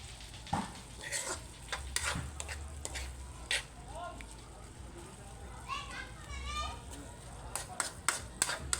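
Ground pork sisig being stirred in a pan, with soft sizzling and scraping taps of a utensil, while children's voices chatter nearby throughout.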